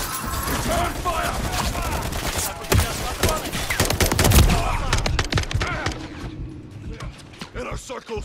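Rapid bursts of automatic gunfire and sharp shots in a Modern Warfare III Flashpoint mission on Veteran difficulty, loud and dense at first, then thinning to scattered distant shots, with voices calling out over the firefight.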